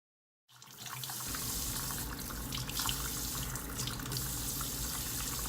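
Tap water runs steadily from a faucet as bleached hair on a lace frontal is rinsed out with olive oil shampoo, a close, continuous splashing rush that begins abruptly and holds level to the end.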